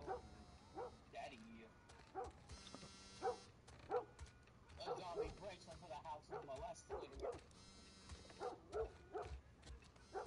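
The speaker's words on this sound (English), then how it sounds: "Also, there's a dog noise," Dog barking in The Last of Us game, a few sharp yips and barks spread through the clip among game sounds and music, with voices talking over it.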